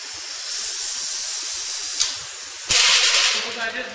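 A pneumatic door mechanism releases compressed air through its valves, a steady hiss that jumps to a louder, sharper blast of air near the end.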